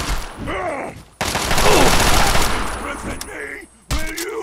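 Sustained rapid gunfire in the video game Fallout 3: one loud, continuous burst lasting almost three seconds. A muffled voice is heard just before and after it.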